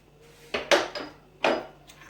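Rice flour and gram flour being stirred together in a bowl produce a few soft, brief scraping and clinking knocks of a spoon against the bowl, close and quiet.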